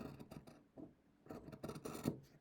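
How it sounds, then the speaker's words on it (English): Several rasping snips of scissors cutting through fabric, in short uneven bursts, close up with no talking. "using my fabric scissors."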